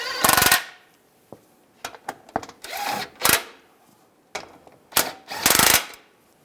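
Shield bolts being run in and snugged on a 2007-2014 Cadillac Escalade 6.2L V8 with a ratchet or power driver, heard as several short separate bursts of whirring and clicking, fairly close and loud, with no talk.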